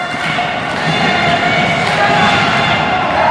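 A steady wall of crowd noise at a wrestling show in Princeton, West Virginia, as fans cheer for Billy Litt. The din holds fairly constant with scattered thuds mixed in, and commentary can be heard over it.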